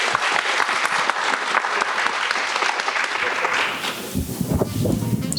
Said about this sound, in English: a huge round of applause for our wonderful panel